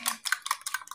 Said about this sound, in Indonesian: dikocok lepas sampai tercampur antara putih dan kuning